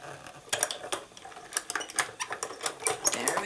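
A die-cutting machine runs a card through with a Tim Holtz Mixed Media honeycomb die, giving a close series of irregular clicks and ratcheting clacks with small gaps between them.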